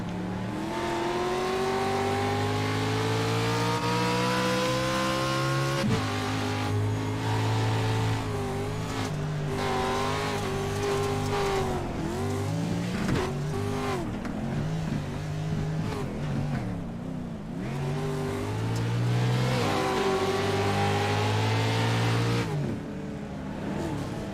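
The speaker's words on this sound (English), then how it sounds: "time to go over to Aaron Smith's camera and give you a little bit of an in-car view of what Aaron Smith sees for a whole lap." Race cars in a sim racing video game lap Daytona's rallycross circuit from an in-car view, engines droning and revving steadily with rising and falling pitch through gear changes, loud and continuous for the whole lap.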